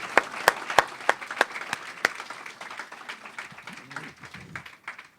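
A small audience claps after a talk, with a few loud, distinct nearby claps at the start that thin out and fade, joined by brief murmured voices near the end.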